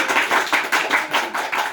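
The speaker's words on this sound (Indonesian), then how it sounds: "Tepuk tangan untuk Kori." A classroom of students claps for a classmate, a brief burst of brisk, uneven applause from several pairs of hands close by.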